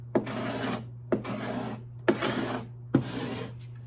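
Four long rasping scrapes across the cedar strips of a wooden kayak, each starting with a sharp catch and trailing off, evenly spaced over a low steady hum.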